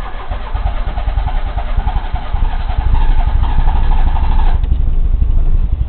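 A hydrogen-enhanced Daihatsu Charade engine runs at a rough, uneven idle close by, with timing slightly advanced, getting a little louder partway through with no voices.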